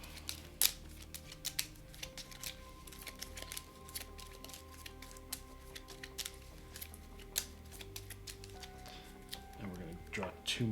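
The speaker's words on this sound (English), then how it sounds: "Then we shuffle our influence deck." Cards from an Etherfields board game influence deck shuffled at a table, a run of quick crisp riffling clicks and soft flutters over a faint tonal background hum.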